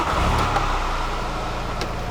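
A Volkswagen Golf with a mono carburetor, its engine running steadily just after starting, a close, even low idle rumble with no talk.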